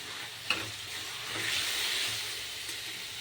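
Curry masala with a little water cooks down in oil in a pan, a soft steady sizzle and hiss with a sharp clink of a spoon early on and light stirring.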